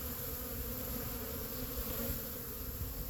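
Honey bees swarming around their hive, a dense continuous buzzing drone from many insects, close and steady throughout, without speech.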